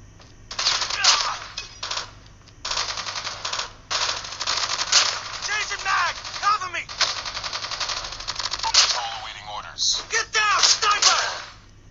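Dull, muffled gunfire from a third-person shooter video game with a sound bug, rapid bursts of clattering shots in several strings with brief gaps, heard alongside a speaking voice.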